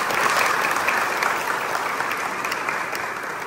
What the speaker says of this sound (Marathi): जोरात एकदा टाळ्या वाजवायच्या